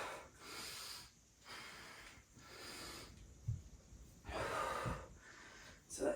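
Heavy breathing during a bodyweight HIIT workout, a slow series of deep, rasping inhales and exhales with short gaps, close and fairly quiet with no talk over it.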